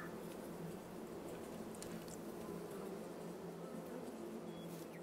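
Bees buzzing in the farming game Farming Simulator 22 give a faint, steady, continuous drone that holds at the same low level throughout, with no talking.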